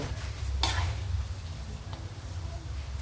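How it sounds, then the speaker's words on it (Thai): Two kilograms of pork belly deep-fry in hot oil, giving a steady, soft hiss and bubbling with a couple of brief clinks from utensils against the pan. No one speaks. "หมูสามชั้นของครูพัน วันนี้ทอดทั้งหมดสองกิโลนะคะ"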